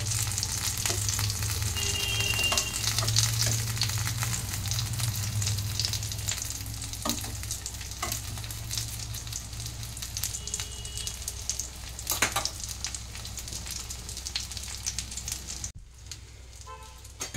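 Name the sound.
fish frying in a pan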